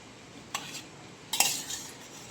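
Food in a pot being stirred with a spoon during rainy-day snack cooking: a few sharp metallic scrapes and clinks, one near the start and a longer cluster later, over a quiet background.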